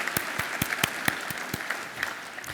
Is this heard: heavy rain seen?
no